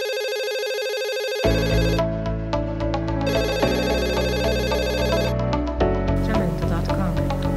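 A telephone ringtone for an anti-corruption hotline plays loudly and steadily as a repeating melodic ring with short gaps, running alone without talk.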